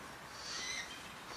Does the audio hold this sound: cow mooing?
no